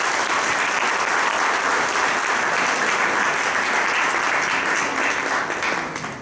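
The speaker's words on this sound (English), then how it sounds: "I think we should all give him a big round of applause." A conference audience in a hall gives a big round of applause, dense continuous clapping from many hands, loud and steady for over six seconds before tapering at the end.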